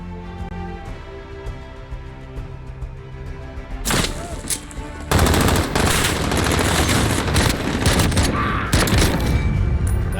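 Video game gunfire starts quietly, then loud dense bursts of automatic fire and booms break out midway and keep rattling close and heavy to the end.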